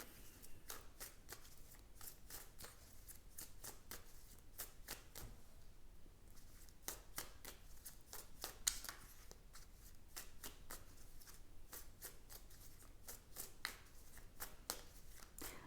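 Tarot cards being shuffled by hand before one is drawn, a long run of quick papery riffles and flicks in rapid rhythm, close and soft, with a few short pauses and no talking.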